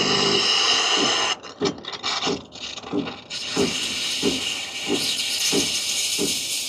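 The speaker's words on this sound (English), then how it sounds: "I can definitely feel that the 3007L has a slightly stronger steaming power as compared to the 3007Z" A Gemilai 3007L espresso machine's steam wand hisses loudly and steadily, cuts out briefly, then returns with rhythmic rubbing, scraping pulses as the milk jug is worked beneath it.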